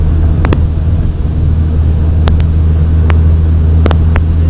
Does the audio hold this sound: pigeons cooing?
no